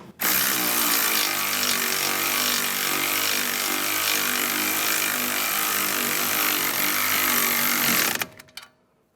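A power tool runs steadily for about eight seconds, driving a 15mm socket to tighten the nut on a front driver-side sway bar link stud of a 2004-2010 BMW X3, then cuts off abruptly.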